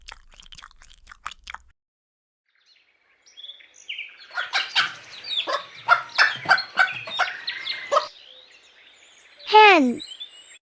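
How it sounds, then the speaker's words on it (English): A hen gives a run of clucks and squawks close by, a few sharp notes first, then a busy burst of calls and a final drawn-out squawk. "Hen."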